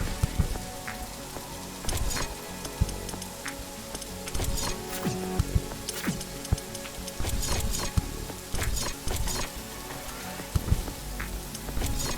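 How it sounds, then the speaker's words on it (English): Rain falling in the video game The Riftbreaker, a steady patter of drops hitting surfaces with scattered ticks and taps across the whole stretch, fairly quiet and with no talking. "It's raining."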